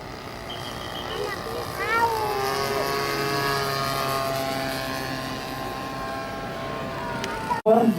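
An aerobatic display aircraft flown by an Indonesian military team performs a double stall turn, its engine droning steadily while the pitch slides and wavers through the manoeuvre before cutting off abruptly near the end.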